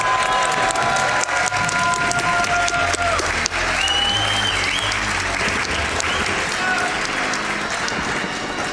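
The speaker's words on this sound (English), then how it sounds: "Let's give Duck a cheer to get him through the grunty fight" A large audience at a Banjo-Kazooie speedrun race event claps and cheers continuously, a dense, loud wash of applause with scattered whoops and tonal game sounds underneath.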